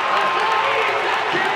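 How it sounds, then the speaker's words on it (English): A packed indoor track crowd at Boston University roars loudly during a mile race, a dense continuous wall of cheering in a short burst. "The crowd is going to go crazy."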